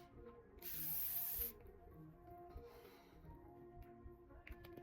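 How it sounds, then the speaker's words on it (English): One continuous burst of fine setting mist from a L'Oreal Infallible 3-second setting spray bottle sprayed onto a face, a close, bright hiss lasting about a second amid quiet room sounds. "locking the whole makeup with L'Oreal Infallible 3-second setting mist spray"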